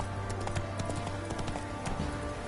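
Hooves of Roach, Geralt's horse in The Witcher 3, clip-clopping in a quick, even rhythm over a steady low background hum.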